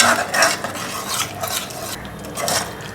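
A spoon scrapes and clinks against a pan in repeated uneven strokes as curry with yogurt is stirred continuously, close and fairly quiet, with no voices.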